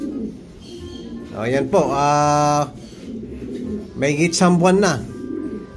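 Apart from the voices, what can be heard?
racing pigeons cooing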